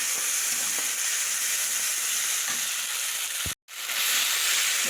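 Spiced masala fries and sizzles steadily in a pan for a Bengali rui shorshe (rohu fish in mustard) dish, a dense close hiss that cuts out briefly near the end before resuming.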